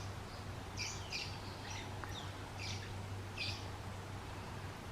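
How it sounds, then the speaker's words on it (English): A lovebird and other birds chirp outdoors, their short bright tweets and squawks coming in scattered bursts, moderately distant, over a steady low background hum. "There's a lovebird that you can hear."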